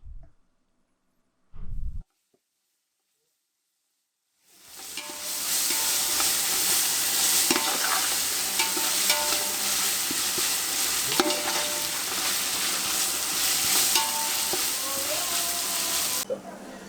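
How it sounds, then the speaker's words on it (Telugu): Onions hit hot oil in a pan and a loud, continuous sizzle and crackle follows, close and steady, with occasional stirring scrapes, after a few brief knocks. "నూనె కూడా వేసేసి మంచిగా ఆనియన్స్ ఫ్రై చేయండి"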